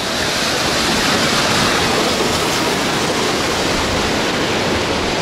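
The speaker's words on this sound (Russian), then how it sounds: "переходим по мостику через вот эту бурлящую горную реку и идем ближе к водопаду" A turbulent mountain river rushes near a waterfall in the Dzhily-Su area by Elbrus, a loud, unbroken roar of white water heard close up with no voices.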